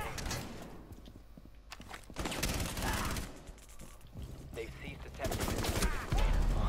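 Gunfire in Rainbow Six Siege arrives in a few bursts mixed with movement noise and other game sounds, moderately loud and close, with a voice talking over parts of it.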